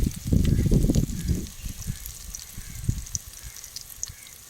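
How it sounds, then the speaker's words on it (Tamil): Onions and curry leaves fry in a pan for a spicy kara kuzhambu cooked outdoors in the woods, giving a loud sizzle at first that settles into a softer crackle with scattered pops. "வெங்காயத்தை போட்டு அதோட இது கருவேப்பில்லை நல்லா வதக்கிக்கணும்"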